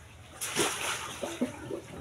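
Water runs and splashes steadily as a child is bathed, a broad hiss that swells after a quiet start, with faint voices briefly rising beneath it.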